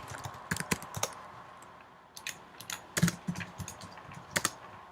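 Keys on a computer keyboard are tapped in quick, irregular bursts of close, crisp clicks with short pauses between.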